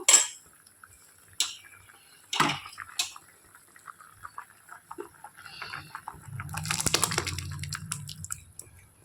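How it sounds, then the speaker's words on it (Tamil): Cooked lentils are tipped into a pot of simmering rasam for sambar in a home kitchen, with a few light metal clinks of utensils first, then a soft wet splashing plop near the end. "இப்போ இதில் பருப்பை போட்டோம்னா சாம்பார் சூப்பராக ரெடி ஆயிடுங்க பருப்பையும் போட்டு விட்ருவோம்"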